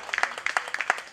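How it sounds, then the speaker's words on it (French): Scattered applause from a French political rally audience in Saint-Pierre, a handful of separate claps in an irregular rhythm, fairly quiet and short. "Merci à Jean-Claude Pam, que je vous demande d'applaudir"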